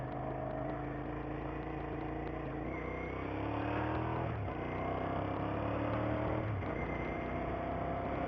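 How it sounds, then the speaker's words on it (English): Suzuki SV650 V-twin motorcycle engine rumbling steadily while riding, a low continuous note with gentle rises and falls in revs, close and moderately loud throughout, no talk. "Got a nice little V-twin rumble."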